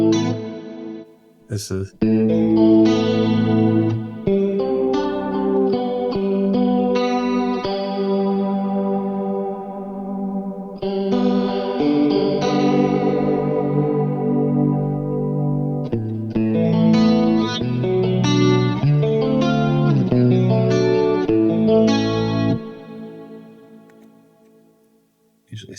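Electric guitar through an 80s TERC tri-stereo chorus preset on a Quad Cortex with the speed turned all the way up, strummed chords swirling and warbling loudly for long stretches with short pauses, a brief spoken phrase near the start.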